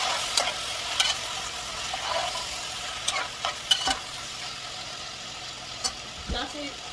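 Rice cooking in a pot for a Haitian vegetable rice dish with smoked herring and sausages, stirred with a utensil: soft scraping strokes and clinks over a faint frying sizzle, close and fairly quiet.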